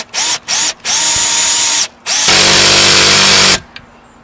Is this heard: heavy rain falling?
no